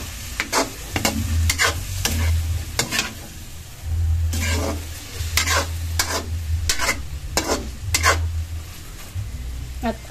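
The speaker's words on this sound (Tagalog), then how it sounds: "Tapos po yung ating po ulit hahaluin." Chicken liver and gizzard adobo stirred in a pan with a little broth, giving rhythmic metallic scrapes and clinks of a utensil over a steady sizzle, close up and with no talking.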